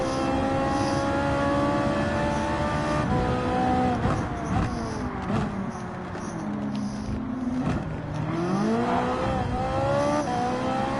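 Race car engine in Gran Turismo 7, a Ferrari, revving hard and accelerating, with rising and falling gear-change sweeps as it powers out of corners, loud and continuous with no talk.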